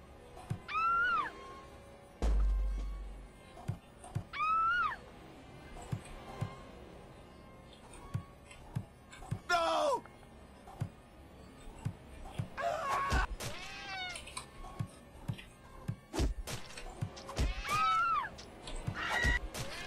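A cat meowing repeatedly in the Friday the 13th Killer Puzzle video game, several clear rising-falling meows spaced across the scene, mixed with sharp clicks and thumps from the game.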